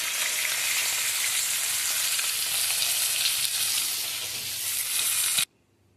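Fish frying in hot oil in a pan gives a loud, dense, continuous sizzle close by that cuts off abruptly near the end.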